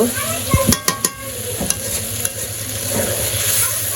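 Chicken meat being stir-fried in a pot for village-style biryani, a close steady sizzle with a cluster of sharp spatula knocks early on and scraping strokes later.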